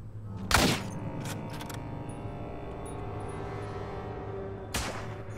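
Two distant gunshots in the survival game Miscreated, a sharp crack early on and another near the end, separated by quiet ambient hum with no talking.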